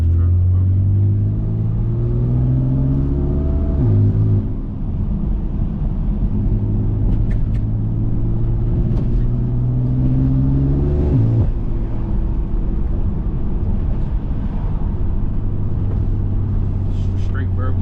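A straight-piped 650 horsepower BMW F80 M3 exhaust drones loud and close, rising and falling in pitch through repeated revs and shifts, with a brief sharp crackle near the middle; voices talk over the steady engine roar.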